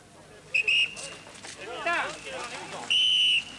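Sharp whistle blasts sound twice at the start of a bicycle race, short and shrill, with a crowd chattering and calling out between them.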